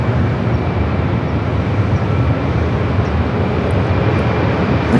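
A large passenger jet airliner passes near LAX, producing a loud, steady broadband engine roar that holds evenly throughout without break, with no talking over it.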